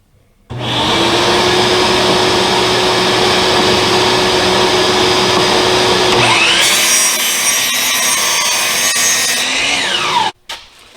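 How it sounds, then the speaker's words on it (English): A power sander smooths freshly cut plywood blocks. A loud, steady motor whine runs close up for about ten seconds, and the tone shifts partway through as the wood presses against it before the machine cuts off. "out on the sander."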